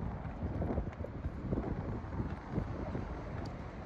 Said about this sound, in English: It don't make no sense how windy it is.